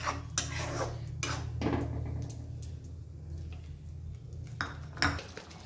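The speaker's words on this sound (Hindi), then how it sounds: "टमाटर और मसाला को अच्छे से मिक्स करेंगे और अच्छे से फ्राई करेंगे।" Tomato purée and masala are mixed and fried in a pan for a prawn curry, with intermittent metal spoon clinks and scrapes against the pan over a low, steady frying hum.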